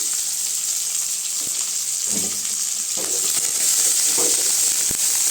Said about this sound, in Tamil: வெங்காயம் நல்லா சவரசு வரைக்கும் வதக்கி விட்டுக்கலாங்க